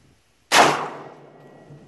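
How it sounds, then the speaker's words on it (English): A rifle firing an M855 SS-109 steel-tip round into a Battle Steel Level IV 10x12 shooter's cut ballistic plate, one sharp loud crack and metallic clang with a ringing decay outdoors. "Shoot it one more time with the M855 SS-109 steel tip."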